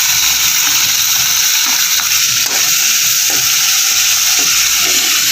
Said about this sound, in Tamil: நம்ம வடிகட்டி இருந்ததை எண்ணெய் ஊற்றியாச்சு, கடுகு போட்டாச்சு. கடுகு, உளுத்தம்பருப்பு, கடலைப்பருப்பு எல்லாமே போட்டாச்சு.